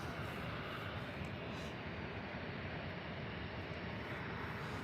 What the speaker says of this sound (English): 737 on final.